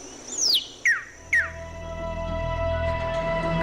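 Three clear descending bird whistles sound in quick succession, a recorded song used in a bird identification test, loud and close before fading into a low background hum.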